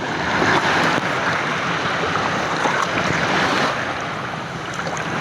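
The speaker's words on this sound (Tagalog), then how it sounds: "Pumasok yung tubig!" Sea waves surging and splashing around a small boat off Bolinao, a continuous loud wash of water and wind noise close to the microphone, no speech.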